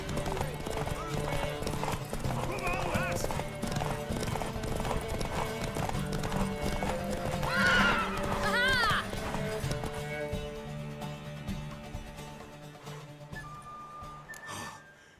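Horse hooves clip-clop at a fast gallop in The Witcher 3 video game, with neighs and snorts from the horse, while characters speak over the hoofbeats and music plays.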